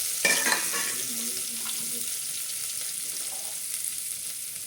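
Steady sizzling of oil tempering for a vegetable curry fills the whole stretch, with a few clinks of stirring at the start and no talk.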